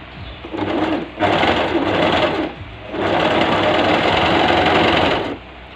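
A Brother portable coverstitch sewing machine stitches a three-needle, five-thread top coverstitch, running in steady bursts with a brief pause between them, close and loud with no talking.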